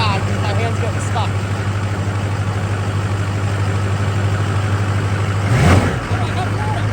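A Duramax diesel pickup truck engine idles steadily with a low, constant rumble throughout, and a brief whoosh near the end.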